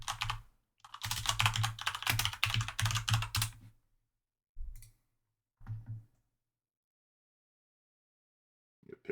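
Close computer keyboard typing while writing C++ code, in a long burst of rapid clicking keystrokes followed by short separate spurts with silent gaps between.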